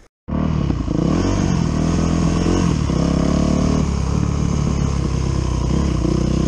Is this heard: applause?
no